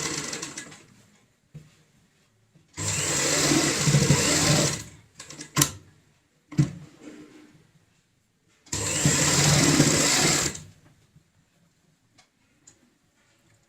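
A sewing machine stitches a handmade fabric door mat in two loud, steady runs of a few seconds each, with quiet ticking and clicking of handling between them and no talk.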